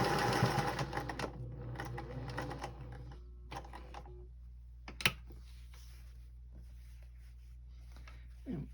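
A sewing machine stitching binding onto a table topper, a close rapid whirring run at the start that slows and stops, followed by quiet handling of fabric, a low steady hum and a single sharp tap.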